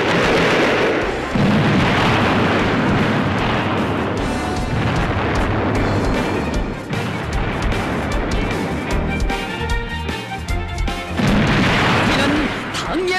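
Artillery guns firing at a North Korean army firing contest, loud heavy booms and rumbling blasts that overlap and run on without a break, with a voice talking over them.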